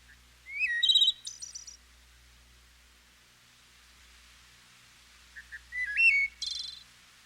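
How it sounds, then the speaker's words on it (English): Louisiana waterthrush song, two bright clear phrases of descending whistled notes ending in a rapid chattering flourish, separated by quiet, heard alone against faint low hum. "Louisiana water thrush 1."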